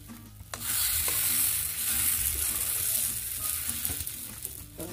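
Semolina being stir-roasted in a pan for sweet sheera, a dry sizzle with scraping stirring strokes starting after a brief quiet moment, close and steady, with no voices.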